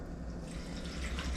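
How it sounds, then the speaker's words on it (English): Distilled water pours steadily into a container, a continuous close splashing stream that grows slightly louder and brighter as it fills. "distilled water, and I'm going to fill it up."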